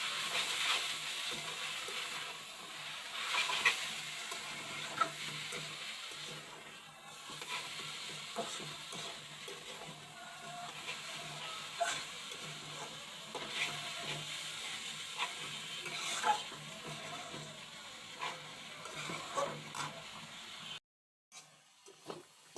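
Radish greens frying with a dried chili tempering, a steady soft hiss and sizzle from the pan with faint stirring scrapes, continuing quietly for a long stretch before a brief cut near the end.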